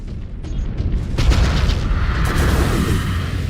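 A missile explodes in the mech combat game Mechwarrior 5: Clans as a loud, heavy boom that rolls into a sustained rumbling roar over several seconds, close and dense.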